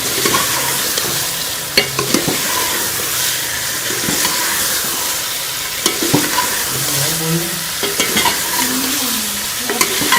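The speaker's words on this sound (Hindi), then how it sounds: "टिंडों को भी हम मसाले के साथ अच्छी तरह से चिकन के साथ जो है वो भून देंगे" Tinda gourd being stirred and fried with chicken and spices in a home kitchen, steady close sizzling with repeated scraping and clinking of a spoon against the pan throughout.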